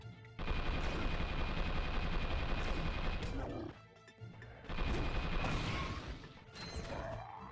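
Turret gunfire in Ratchet and Clank Going Commando: dense, continuous rapid-fire blasting with crashes and mechanical whines, loud and sustained, dropping out briefly before resuming, with game noise throughout.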